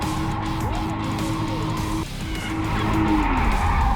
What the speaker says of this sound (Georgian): ნახე როგორ არის დრიფტში რო აკონტროლო მანქანა გაზი უნდა ათამაშო